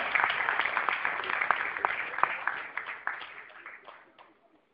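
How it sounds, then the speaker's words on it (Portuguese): An audience claps steadily for several seconds, the applause thinning and fading out toward the end, with some voices mixed in. "Temos que aplaudir o brasileiro."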